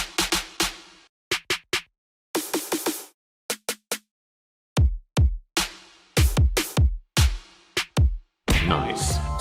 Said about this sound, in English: In snare I also find a random samples and it sound like this.